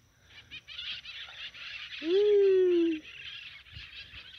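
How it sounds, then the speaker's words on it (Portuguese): Macaws call in the open, one loud, drawn-out squawk standing clearly above a background of steady chatter and other bird sounds. "olha as araras como é que tá"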